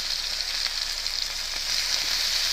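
Eggs fry in a pan with a steady, close, crackling sizzle. It carries on evenly with small pops and no voices.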